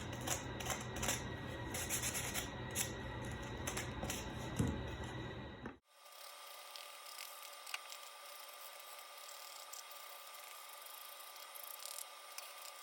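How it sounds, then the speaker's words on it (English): Hand sanding along the rough bottom edge of a CNC-cut wooden piece, a steady close scratchy rubbing that continues throughout, with a sudden drop in background noise about halfway through. "I just hand sand this."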